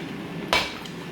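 A cooking pot of African stew with tomato sauce being covered, one sharp metallic clank of the lid landing, followed by a faint tap against a low background hum.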